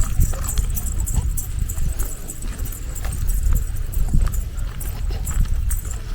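Cattle driven along a rural path toward grazing land, with steady hoof clops and jangling bells or chains over outdoor rumble, continuous and moderately close.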